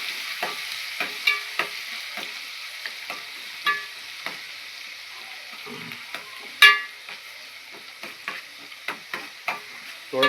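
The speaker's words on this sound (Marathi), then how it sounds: "लसून नंतर आपण कांदा टाकणार आहे कांदा बारीक करून घेतलेला आहे थोडस फ्राय करून घ्यायचा कांदा" Finely chopped onion fries in a pan after garlic, giving a faint, steady sizzle. Scattered spoon scrapes and taps break through as it is stirred, with no talking.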